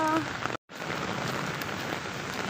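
Heavy rain in Abu Dhabi pours steadily in a dense, hissing wash, loud and close, with a brief cut near the start.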